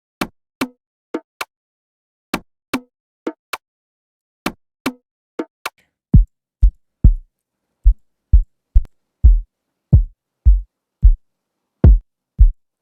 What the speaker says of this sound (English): There are lots of soft kicks in here and hard kicks as well.